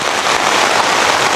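Loud, close rain falling on a rambutan and dwarf coconut farm, a dense continuous patter and hiss with no voices, steady from start to finish.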